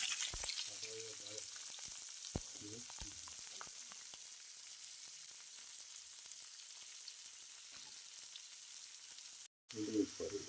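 Onions fry in hot oil with black cardamom and a bay leaf, a steady close sizzle broken by several sharp stirring knocks and scrapes against the pan.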